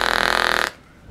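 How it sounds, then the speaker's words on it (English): A loud, close, buzzing fart lasting about two-thirds of a second with a rapid fluttering pulse, then quiet and a small soft thump. "Yeah, I farted"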